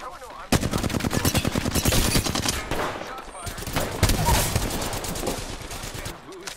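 Rapid automatic gunfire in Apex Legends: a dense, loud stream of shots in a steady rhythm, with a brief break partway through, then more bursts that tail off into game noise.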